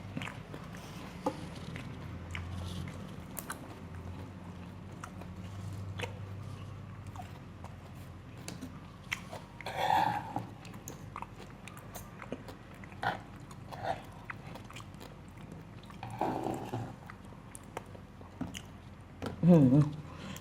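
Crispy fluffy catfish salad with firm green mango is chewed at close range, with soft intermittent crunches and wet bites and a few murmured words between mouthfuls.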